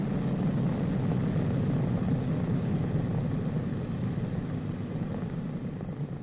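A B-29 bomber's heavy propeller engines drone steadily and loudly during pre-takeoff engine checks on the runway, a dense low rumble with no voices over it.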